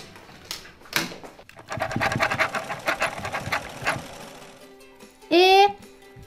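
A broken toy sewing machine in a pretend repair game runs in a rapid mechanical chatter for a few seconds, mixed with talking and ending in a loud squeal.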